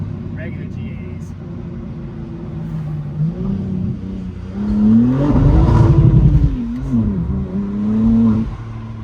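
Cabin view of a BMW M4 CSL with a Valvetronic Designs midpipe, stock downpipes and rear section: a steady engine hum under cruising swells into a loud, rising rev, briefly drops on a shift, then pulls again, with a voice talking over it.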